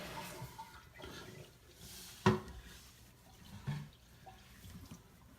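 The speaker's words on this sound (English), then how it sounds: "Water filling back up." Toilet tank refilling after its water supply is switched back on following a leak repair: a faint, steady rush of running water fills the tank, with a couple of brief clunks partway through.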